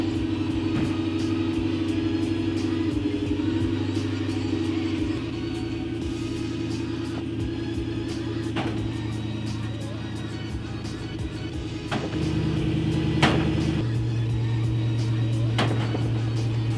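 A pickup truck's engine hums at low idle while it slowly backs up, steady and close, with a slight shift in pitch partway through and a brief louder push near the end.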